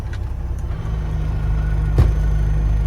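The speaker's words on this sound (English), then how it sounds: "well, trailer's raising" A dump trailer rising behind a Peterbilt 359 truck, heard as a steady, loud low mechanical engine drone with a brief clunk partway through and no voices.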